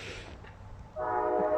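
A train passes below a city rooftop, its horn sounding in a sustained, steady tone that comes in partway through and holds at a moderate level over low rumble.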